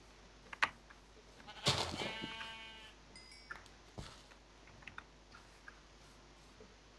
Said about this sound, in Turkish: Koyun var. Gel buraya koyuncuk.